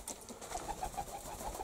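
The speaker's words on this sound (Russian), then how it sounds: "Вот она бьется туда залететь, и он тоже. Глупая-глупая птица, Ефрем глуп" A pigeon near its nest, with soft repeated cooing pulses and faint fluttering, steady and fairly close, with no talk.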